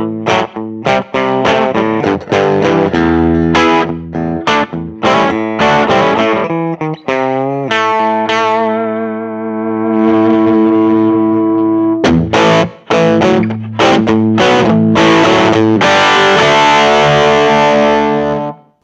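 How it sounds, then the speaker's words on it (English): Electric guitar through a Walrus Audio Messner low gain overdrive pedal plays chords and single notes with mild gritty drive, alternating choppy strums with sustained ringing notes, loud and close with no talking. "Less compressed sound, bit of grit that you can shape with the color knob."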